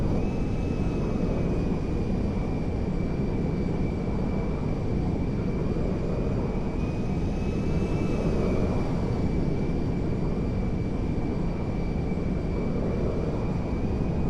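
An IL-76M jet transport in the GTA 5 video game on approach, a steady, continuous engine roar with a thin high whine running through it, loud and unbroken throughout.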